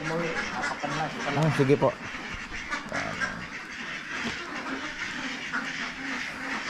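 Ducks quacking on a duck farm, a chorus of nasal quacks close by with a burst of louder calls early on, mixed with brief human speech.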